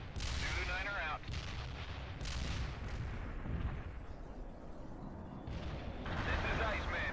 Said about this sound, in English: Cluster bomb hit for full effect